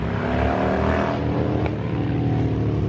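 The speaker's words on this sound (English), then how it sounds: "Loud bikes, it's bike week." Loud motorcycle engines rumble and roar steadily throughout at a bike week event, a thick, continuous wall of nearby engine noise.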